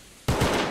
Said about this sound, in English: Punnable can easily just kill him from A-Sight with that shotgun. Whiffs the shot though.